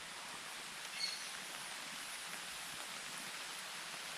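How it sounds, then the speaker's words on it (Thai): Rain falls steadily in a forest, a soft, even hiss of drops on leaves and ground, faint and continuous with no one talking. "ตอนนี้ฝนก็ตกด้วยนะครับนี่ทุกคนได้ยินเสียงฝนไหม"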